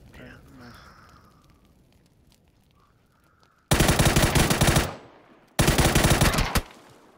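Automatic gunfire in the PUBG video game, two loud sustained bursts of rapid shots close up, each about a second long, after a quieter stretch with faint game sounds.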